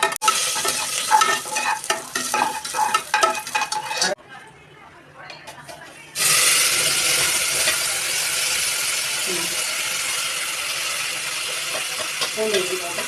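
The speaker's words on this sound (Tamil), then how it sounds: "எண்ணெய் காஞ்சதுக்கப்புறம் பட்டை, கிராம்பு, சோம்பு, ஏலக்காய் எல்லாம் போட்டு நல்லா வறுவடணும்" Cinnamon, cloves, fennel and cardamom fry in hot oil for a goat-intestine kuzhambu. Close, busy stirring and rattling comes first, then a short lull, then a loud, steady sizzle that carries on to the end.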